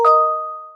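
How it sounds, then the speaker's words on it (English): A doorbell gives a single bright ding-dong chime that rings out cleanly and fades over less than a second, alone with no other sound. "bell, doorbell,"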